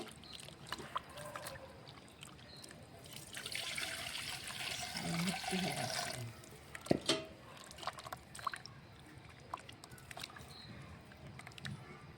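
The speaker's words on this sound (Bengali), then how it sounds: "আমি এখন কিছু কিছু জল দিয়ে ভালো করে গুলে নেব।" Water being poured and stirred into rice flour batter for pitha: a steady wet splashing and trickling runs for several seconds, then fades into intermittent clinks and knocks of utensils, moderately close with no speech.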